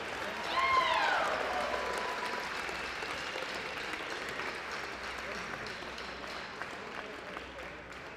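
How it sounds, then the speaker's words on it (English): A crowd at a men's college basketball game applauds steadily, the clapping swelling early and then holding, with some faint cheers and whistles mixed in across a large arena. "please give a final round of applause for our Mastodon senior, Marcus DeBerry, Matt Holbaugh"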